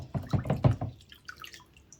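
Water splashing and dripping while rinsing a plastic part from a Warhound Titan model kit, a quick cluster of close wet splashes followed by lighter scattered drips.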